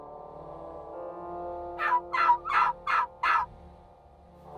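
A wild turkey gobbles from just beyond a cattle fence near a hunting blind, a burst of five rapid rattling gobble notes over a quiet outdoor background.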